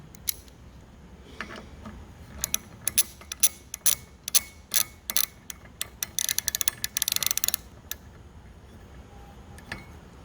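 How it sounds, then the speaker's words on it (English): A socket wrench ratchets to tighten a spin bike crank arm bolt. Sharp clicks come in short runs and build to a quick, dense burst, then trail off into scattered faint ticks. "Once you get it in there and you can no longer use your finger, go ahead and use the socket wrench."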